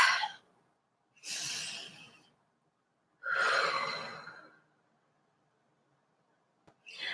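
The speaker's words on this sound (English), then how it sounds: "Take a deep breath." Slow deep breaths drawn in and released, two long airy breaths close to the mic, separated by silence, with a faint start of another at the end.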